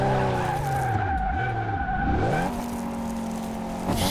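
Ford F350 Super Duty 2WD pickup tyres squealing and skidding on a track in Car Mechanic Simulator 2018, a loud continuous screech with sweeping pitch over the engine drone, then settling into a steady whine.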